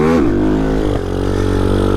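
A Grom clone Vader 125cc motorcycle revs loudly up close, the small engine's pitch climbing and dropping as the rider shifts through a quick acceleration.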